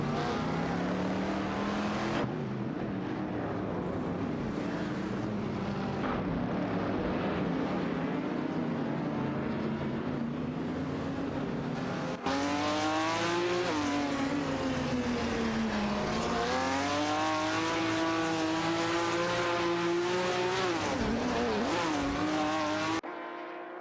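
Race cars including a Shelby GT350 and a 1973 Holden Monaro roar through a racing video game, engines loud and continuous with rising and falling revs and gear changes across the whole stretch.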